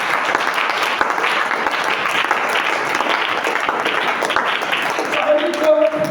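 A church congregation applauds and cheers loudly and steadily throughout, a dense mass of clapping with voices mixed in.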